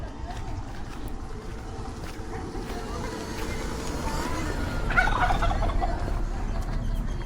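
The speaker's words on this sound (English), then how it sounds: "I hear a turkey gobbling." A wild turkey gobbles in the distance, a faint rattling call rising briefly over steady wind and outdoor rumble in El Naranjo, La Huasteca Potosina, with a voice speaking.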